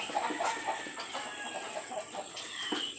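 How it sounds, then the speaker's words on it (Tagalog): Several hens cluck and murmur close by on a backyard farm in a continuous chatter, with a faint high steady hum in the background. "Ang ingay ng mga manok dito mga ka-farmers"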